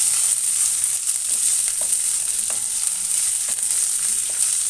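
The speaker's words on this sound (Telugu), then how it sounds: "పల్లీలు అవి బాగా వేయాలి." Peanuts fry in a pan with a loud, continuous hiss of sizzling oil, heard up close and alone.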